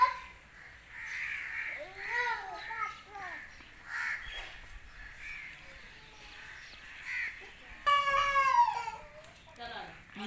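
Crows caw repeatedly in a village, with a loud, harsh burst of cawing close by near the end and softer calls earlier, under light background activity.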